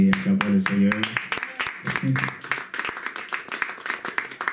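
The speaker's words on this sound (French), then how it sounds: "Père spirituel, le Révérend Patrick Tségué, acclamons le Seigneur" A church congregation claps and applauds in quick rhythmic bursts, with a voice singing or calling out over the first moments.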